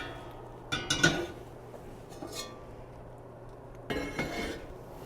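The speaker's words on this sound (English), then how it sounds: "So now I'm going to take them out." Heavy Dutch ovens come out of a 450-degree oven after preheating for bread baking, making a few clanks and metallic knocks with quiet gaps between them, fairly soft in a kitchen.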